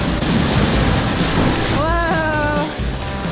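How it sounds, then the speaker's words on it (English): Sea waves crashing against the rocks at Blowing Rocks Preserve on Jupiter Island, Florida, a loud, rough roar of surf and wind close by, with a brief voiced exclamation near the end. "the seas break against the rocks and force plumes of salt water up to 50 feet skyward"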